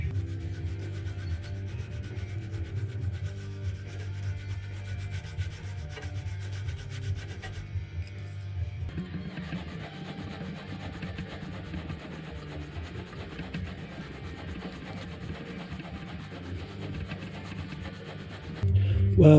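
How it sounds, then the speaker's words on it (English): Coarse sandpaper rubs back and forth over a wooden fishing stick float, a steady close scratchy sanding that shifts slightly in tone partway through and continues without speech. "We're just going to use really coarse sandpaper at the start to get this down nice and quickly."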